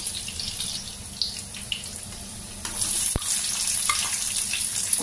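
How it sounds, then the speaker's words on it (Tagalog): Garlic and onion sauté in a pan, giving a loud, continuous close sizzle that swells in the second half. A single sharp knock of a utensil cuts through it. "Tapos magigisa na po tayo. Ginisa ko na ang bawang,"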